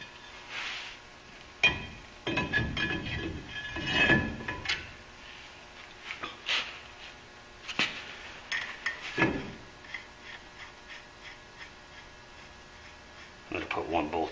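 Metal clinks and light knocks from a brake rotor and caliper being fitted back onto a Ford F250 Super Duty, coming in scattered bursts with quiet gaps between them, close by and moderate in level, with some voice in the background.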